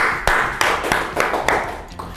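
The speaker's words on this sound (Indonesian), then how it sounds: "Tepuk tangan." One person claps hands a handful of times in an even rhythm, close by, over a steady background hiss.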